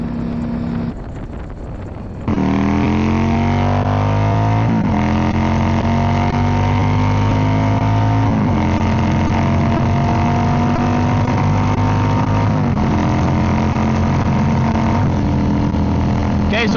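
A Yamaha V-Star cruiser with loud exhaust rolling at about 75 mph gives a steady, droning engine note, heavy with wind rush, that shifts pitch slightly now and then.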